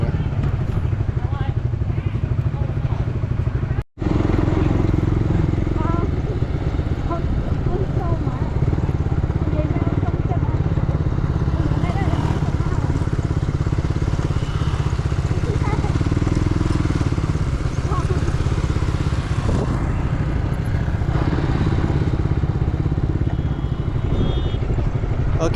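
A motorbike rolls downhill on a weekend ride, its engine a steady low rumble with road clatter running throughout and one abrupt short dropout early on.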